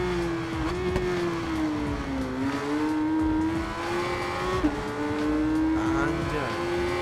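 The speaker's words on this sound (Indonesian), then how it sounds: "Ini suaranya tuh kayak mendem gitu ya motornya guys, karena ini motor 1200 cc dari Kawasaki tahun 2006." A 2006 Kawasaki 1200cc motorcycle with a long exhaust drones at a circuit with a deep, muffled engine note that rises and falls as it revs, steady and close throughout.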